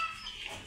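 Chickens cluck faintly during their evening feeding in a rural yard, a brief, quiet moment of low fowl sounds with no talking.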